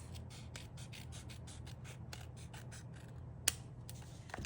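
Small snips and scrapes come from trimming paper edging on a handmade lunch box note. The strokes are quiet and steady and repeat through the whole stretch, with one sharper click near the end.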